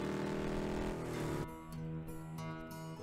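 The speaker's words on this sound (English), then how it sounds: "Listen to that engine purr." A car engine in the Rocket League video game, a harmonic motor hum that drops into a steadier, pulsing idle drone partway through, faint and heard alone.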